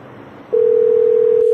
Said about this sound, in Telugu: మళ్ళీ ఫోన్ చేస్తున్నాడు.